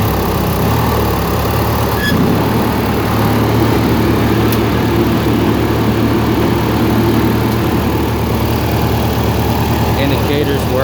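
A Troy-Bilt riding mower engine running loud and close with its PTO clutch engaged, a steady droning rumble that holds high revs throughout, with a brief clunk near the start and a person talking faintly beneath it.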